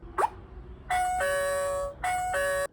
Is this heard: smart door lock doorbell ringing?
yes